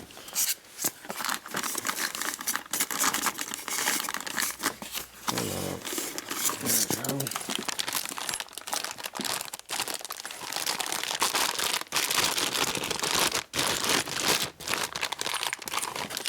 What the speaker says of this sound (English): Let's just tear the box off